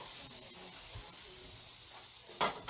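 Food sizzles in a hot skillet, a soft steady hiss low in the mix that flares briefly near the end as something new hits the pan.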